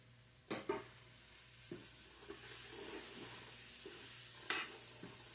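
Butter being stirred in a hot sizzling pan, a steady soft frying hiss with a few sharp scraping clicks of the utensil against the pan, close and fairly quiet.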